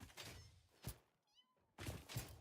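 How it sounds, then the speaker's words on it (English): In a video game, a cat gives one short, thin meow in a brief quiet gap, framed by dull thumping and rustling noises before and after. "Hear the meowing."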